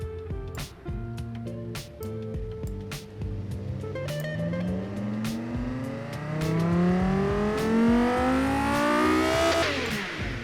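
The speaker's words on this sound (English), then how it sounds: "Let's listen to this engine." A car engine in the game Automation revs up through several gears, its whine climbing in repeated rising sweeps and growing louder toward the end.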